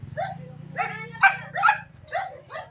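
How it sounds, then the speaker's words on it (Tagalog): A dog on a farm barks several times in short, uneven bursts, fairly close, over a low steady hum in the background. "Ang ingay ng aso."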